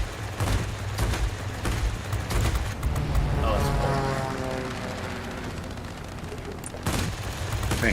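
Aircraft cannon fire in World of Warplanes, bursts of rapid gunfire over a droning plane engine, with a man's brief exclamation and voices in the mix.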